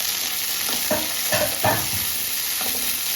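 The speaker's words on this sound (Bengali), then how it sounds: "এবার আমি দিয়ে দেবো টমেটো।" Tomato is stirred and fried in hot oil with onion and green chilli in a pan, a continuous sizzle broken by a few distinct spatula scrapes and stirs, close and without talk.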